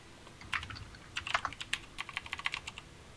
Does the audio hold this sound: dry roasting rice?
no